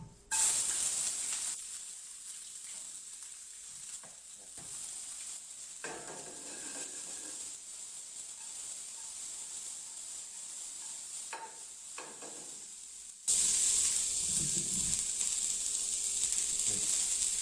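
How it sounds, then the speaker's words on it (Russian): Steady hot-oil sizzle of onions frying in a wok, continuous and close, with occasional stirring scrapes and a louder burst of crackle near the end. "Прежде всего я начну жарить с луком."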